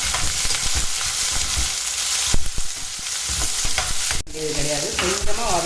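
Chopped shallots hit hot oil already crackling with mustard seeds and urad dal, sizzling loudly up close as a spoon stirs and scrapes the pan in irregular strokes, with a sharp knock near the end.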